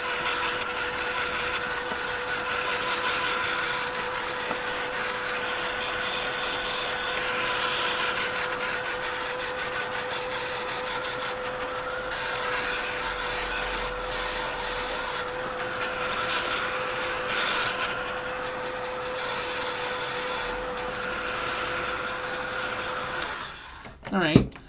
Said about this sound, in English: so now take your heat gun and we're gonna dry this.